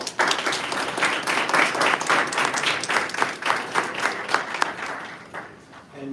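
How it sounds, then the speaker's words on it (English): Audience at a congressional briefing on gun violence applauds a Congresswoman with steady, dense clapping lasting about six seconds, fairly close and loud, tapering slightly at the end. "Please give our Congresswoman another round of applause."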